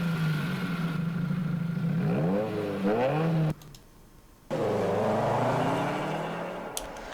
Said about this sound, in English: I put in a little sample of the engine revving during the drop